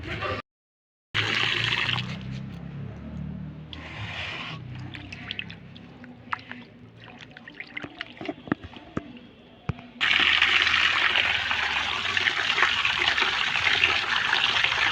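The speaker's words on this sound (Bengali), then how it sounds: "ধুয়ে নিলাম মাংসটা" Tap water runs while meat is washed at home, with a steady splashing flow that cuts in and out between quieter stretches of trickling and clinking.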